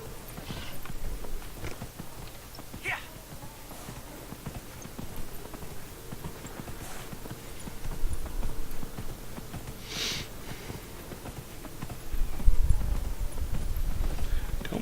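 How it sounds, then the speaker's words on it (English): Horse hooves clip-clopping steadily in Dragon Age Inquisition as the rider gallops through a fort and up stairs, a rhythmic mid-level patter with a few heavier thuds near the end and no talk. "Don't mind me, I'm just galloping a horse through your fort."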